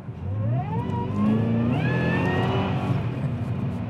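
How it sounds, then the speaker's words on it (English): A Cadillac CTS-V accelerates briskly back up to the road's speed limit, its engine revving up through rising gears in a loud, close, smooth climbing roar. "Let me briskly come back up to the speed limit on this road."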